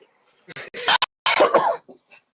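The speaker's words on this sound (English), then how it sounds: "I just have a cough." A few rough, broadband coughs in quick succession, close and fairly loud, followed by a couple of faint trailing sounds.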